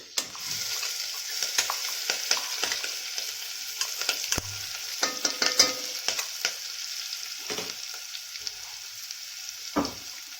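Green chili paste hitting hot oil and garlic in a pan for kadhi tempering, with a steady loud sizzle and frying crackle plus intermittent stirring scrapes and clinks throughout.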